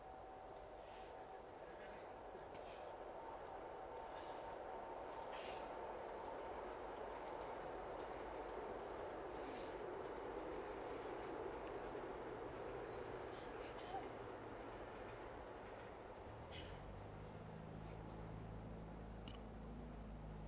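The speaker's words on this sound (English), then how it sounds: "Train coming." A train passes at an outdoor public discussion in Saanen, a steady broad rumble holding throughout with a low, heavier roar building near the end, under a faint background voice.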